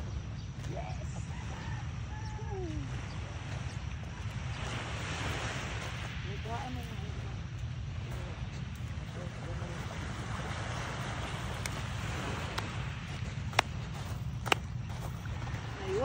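Sea waves wash steadily onto Aroma Beach in San Jose, Occidental Mindoro, a continuous broadband surf roar with wind buffeting the microphone, while people talk faintly in the background.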